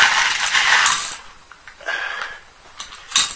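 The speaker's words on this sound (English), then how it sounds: "loads of screws, loads of standoffs, everything. I'm just going to empty it into a bowl." Screws and standoffs spill out of a box into a bowl in a clattering metallic rush, thinning to a few scattered clinks and a final rattle, close up with no talking.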